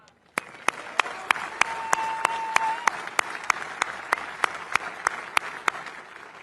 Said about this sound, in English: Let's give a round of applause to the men and women who made this happen.